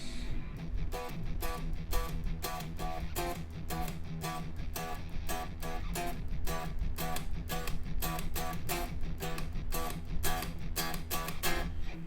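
Fast, driving electric guitar riff from a TV theme, with rapid palm-muted picking over a dense, distorted backing, loud and continuous throughout.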